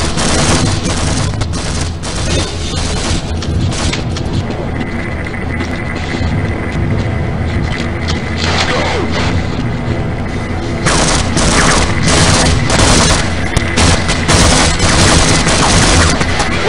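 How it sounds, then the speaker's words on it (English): Dense gunfire and explosions from a firefight in the Half-Life video game, at an army outpost in a radioactive warzone; sustained bursts and booms fill the whole stretch, loud and close, with game machinery hum underneath. "Oh, where is he shooting me from?"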